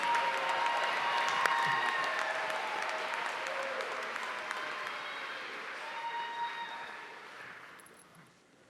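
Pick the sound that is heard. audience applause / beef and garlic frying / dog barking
audience applause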